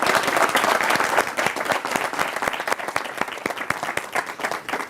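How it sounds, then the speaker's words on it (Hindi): An audience applauds at a live science show, dense steady clapping from many hands lasting several seconds and slowly thinning toward the end, close and loud. "तालियां तो बजाओ यार"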